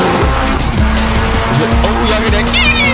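Tires squealing under hard braking from a car in an SRP server driving game, a continuous engine drone with a sustained skid screech running through, loud and close throughout.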